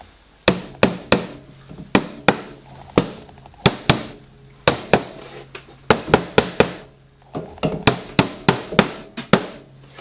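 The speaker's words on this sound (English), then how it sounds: "The dowels are lined up and helped in with a rubber mallet." A rubber mallet taps painted wooden dowels into place while a cover is fitted: sharp, wooden knocks in quick clusters of two to four blows, separated by short pauses, close and clear with no talking.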